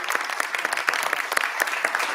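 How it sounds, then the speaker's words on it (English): An audience at a university lecture on STEM diversity initiatives breaks into a short, dense burst of applause, many hands clapping at once, close and steady without a pause. "Let's give a round of applause for Dr. Gilbert"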